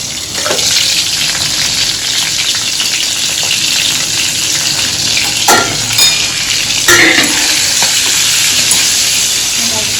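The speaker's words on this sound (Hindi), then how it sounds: "ऑयल गरम हो गया है, मैं डाल देती हूँ इसमें अजवाइन, और अजवाइन के बाद में डाल देती हूँ मिर्ची" Ajwain seeds and chilies sizzle in hot oil for a home-cooked chole, a steady loud frying hiss with a few sharp crackles and utensil stirs throughout.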